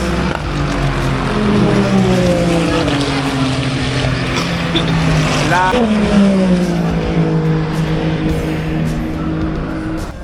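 Race cars, including Porsches and a Cadillac, roar past at the 2025 Le Mans race with loud engine whine rising and falling, a steady heavy drone of engines throughout, one car sweeping by near the middle.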